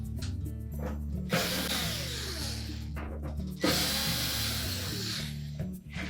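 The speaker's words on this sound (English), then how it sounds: "we need to remove these 5 screws that secure that access panel. These are a number 2 Phillips screw." A power driver whirs in steady bursts as it backs out number 2 Phillips screws from the rear access panel of a Samsung range, with short pauses between screws and no talking.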